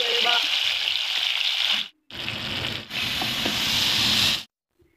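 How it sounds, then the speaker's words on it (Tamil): Chicken pieces frying in hot oil in a pan, a steady loud sizzle in two long bursts separated by a short gap, then stopping abruptly. "ஒரு பேனில் நல்லா ஆயில் ஊற்றி, ஆயில் லீட் ஆனதுமே நம்ம சிக்கன் போட்டு நல்லா கோல்டன் ப்ரௌன் கலரில் ஃப்ரை பண்ணிடலாங்க"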